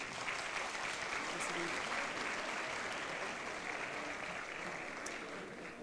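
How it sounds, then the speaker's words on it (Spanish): An audience claps through a pageant final, dense continuous applause heard from a distance that holds steady and then slowly fades, with faint talk underneath. "Un fuerte aplauso, que nos acompañan también."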